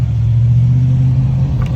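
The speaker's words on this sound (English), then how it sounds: "I apologize for the loud traffic coming by" Loud road traffic rumbling steadily past nearby, a deep continuous engine drone filling the whole moment with no break.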